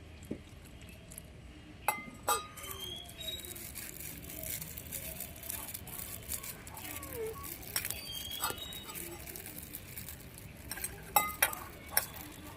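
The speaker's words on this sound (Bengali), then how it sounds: "এবার অল্প অল্প জল দিয়ে ব্যাটারটা বানিয়ে নেবো" Gram flour batter being mixed by hand with black cumin, chili powder and small additions of water, giving soft intermittent stirring scrapes and light clinks of utensil against bowl, close up and fairly quiet.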